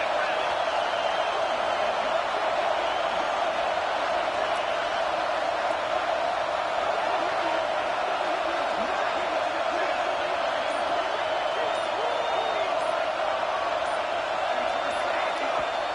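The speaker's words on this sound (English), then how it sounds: "this crowd is coming to help the defense" Huge college football stadium crowd in a video game roaring to back the defense late in a close game, a constant dense wall of cheering and noise with a commentator talking over it.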